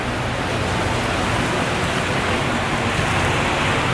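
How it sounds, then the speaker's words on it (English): Hail pours down outdoors in London, a dense, steady hiss and patter of stones on surfaces, loud and unbroken with no voices over it. "It's hailing."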